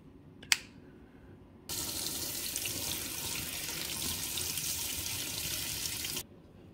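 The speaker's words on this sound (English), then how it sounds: "run water over it to get the dust out of it." Tap water running over a carbon filter for a Cuisinart DCC-1220 12-cup coffee maker, a single short knock followed by a steady faucet stream lasting several seconds that then shuts off cleanly.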